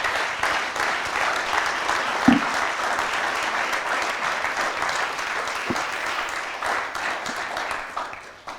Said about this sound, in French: Elle mérite tous vos applaudissements